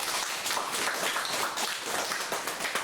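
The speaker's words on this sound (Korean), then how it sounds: "박수 한번 치겠습니다." Congregation clapping together during a Sunday morning church service in a sanctuary of about a hundred worshippers, a dense, steady patter of many hands filling the whole stretch at moderate level.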